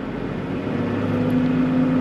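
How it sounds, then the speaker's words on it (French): A tractor engine held steady at about 1000 rpm while spraying crops, a constant low mechanical drone with a sustained tonal hum, close and unbroken, with no voices. "Je me mets juste à 1000 tours moteur"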